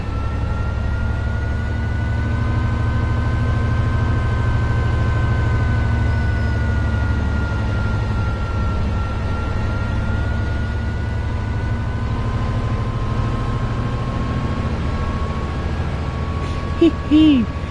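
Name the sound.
diesel locomotive running, from a video game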